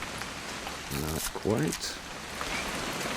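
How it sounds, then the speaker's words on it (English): Steady rain falling in the video game What Remains of Edith Finch, a soft continuous hiss beneath a short spoken exchange. "It's gonna rain the whole weekend,"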